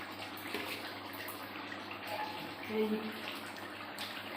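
Tap water runs steadily as hands are washed at a kitchen sink, a faint continuous splashing with a voice speaking briefly over it.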